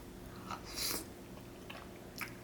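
Someone chews takeout tteokbokki and boneless chicken close to the mic, with a few soft wet bites and crunches spread across a couple of seconds, quiet overall.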